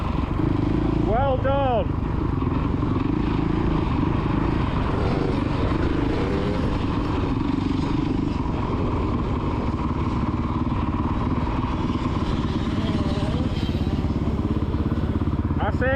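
A kid's motocross bike revs on an MX main track at Astley, its engine droning steadily and loud throughout, with a coach's voice briefly heard over it.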